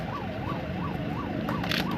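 Wailing ambulance siren at a flag-off ceremony for a new advanced life support ambulance outside a 100-bed maternal and child hospital in Bidar, cycling steadily in regular rises and falls, loud and close over a dense low rumble of crowd and engine noise.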